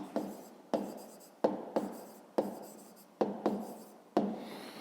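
Handwriting on paper during a fifth-grade math lesson, close scratchy pen strokes in short bursts, each starting sharply and fading, about nine in a row.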